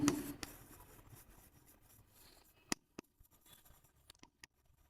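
A pen or marker scratches across a board or paper during a partnership accounting lesson, quiet short strokes and scratchy taps spaced irregularly, with no talking over them.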